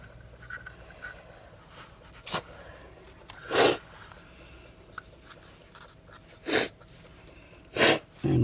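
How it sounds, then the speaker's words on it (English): Several short sniffles from someone with a cold or allergy, spaced a few seconds apart, close and fairly soft against a quiet room. "sorry for sniffling, it's the SLSA"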